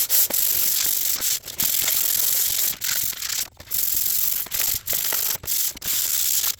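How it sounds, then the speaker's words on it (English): A metal part of a power washer is scuffed and polished by hand, giving repeated abrasive rubbing strokes with short breaks between passes, fairly close and steady. "I guess we'll see how the finish turns out after I scuff it some more."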